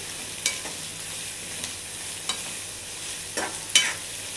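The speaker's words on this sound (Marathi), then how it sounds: "कांदा भाजून घेऊया चांगला" Chopped onion frying in a pan for chicken keema, a steady soft sizzle with a few light stirring scrapes, close by and fairly quiet, no voices.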